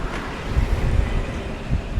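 Strong wind gusts into the microphone outdoors on a bike tour in Tuscany, producing low rumbling buffeting and irregular thumps that swell and fade, with no voices.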